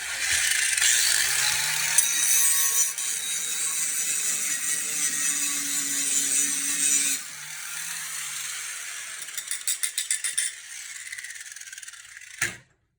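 Metal Ferrari parts being ground with a power grinder, a loud continuous harsh whir for several seconds, then a lower-pitched stretch with rapid rattling bursts before it stops abruptly.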